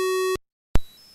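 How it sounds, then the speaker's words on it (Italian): An Atari home computer sounds a steady pure electronic tone for about a third of a second, which cuts off into silence before a sharp click, loud and with nothing else heard. "Il numero 10 genera il suono puro."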